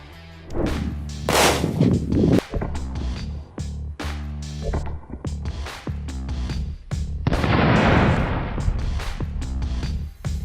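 Test firing at a tactical helmet, with several sharp gunshot bursts ringing out at irregular intervals over a loud, busy background with no speech.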